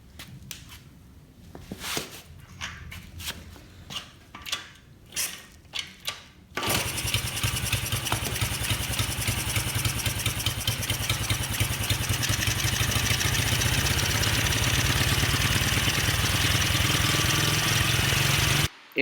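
A Honda Z50R minibike is choked and started, then runs loud and steady close by to warm the oil, following several seconds of scattered clunks and handling noises.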